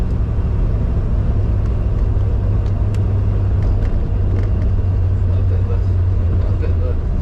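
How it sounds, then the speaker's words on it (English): An Aston Martin DBS V8 idles and runs with a steady low rumble throughout, loud and close, alongside a few faint ticking sounds. "it's a great big V8. It sounds the part"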